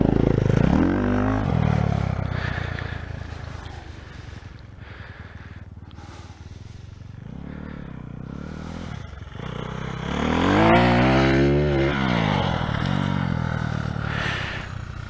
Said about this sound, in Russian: Едет, хорошо едет мотоцикл.